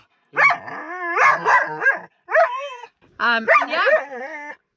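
A dog barks and yips in excited bursts with whiny, howling tones, close by, in three runs separated by short pauses, reacting to other dogs on the Moroccan Atlantic coast.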